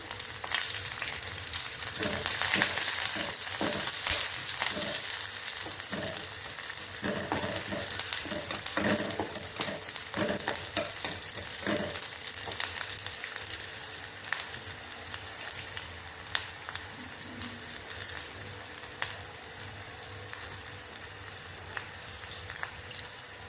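Onion and curry leaves frying for rasam, giving a dense, steady crackling sizzle throughout with occasional stirring clinks, close and fairly loud with no voices.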